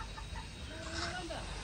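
Chickens clucking on a poultry farm, a steady cluster of hen calls through the whole stretch, fairly close and moderately loud over a constant farmyard background.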